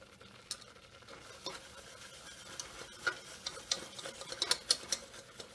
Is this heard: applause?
no